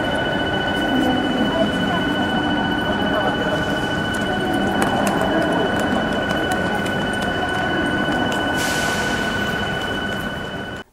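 Ambience of a French train station: a steady wash of crowd murmur and rolling noise with sustained high tonal hums, a distant train presence and a brief hiss near the end, people talking throughout.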